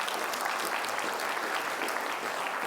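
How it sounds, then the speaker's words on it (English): Audience applause for students after a lecture on the shale gas revolution, a steady, even wash of many hands clapping throughout, fairly loud and without talk. "let's give these students a round of applause"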